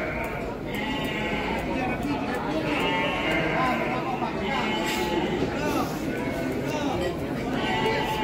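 Garut sheep at a busy livestock market bleat repeatedly in high, wavering calls over steady crowd chatter and people talking nearby.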